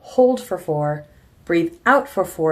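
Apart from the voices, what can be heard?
None of the usual background noises is heard.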